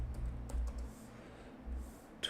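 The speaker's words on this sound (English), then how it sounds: "I'm typing it in the wrong place." Quiet, scattered key clicks from typing on a computer keyboard while setting up a server, soft taps over a low steady hum, close but faint.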